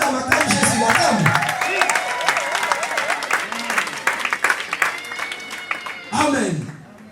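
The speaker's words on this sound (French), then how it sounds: "Oui, acclame Jésus, acclame" A wedding congregation at a religious ceremony breaks into loud applause and cheering with many overlapping voices, then the clapping thins out and a final burst rises near the end.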